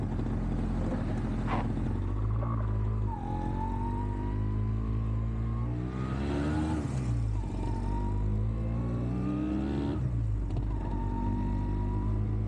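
A Yamaha YB100 two-stroke motorcycle engine revs up and down several times close by, each rise in pitch climbing sharply and then falling back over a steady idle, loud and with no voices.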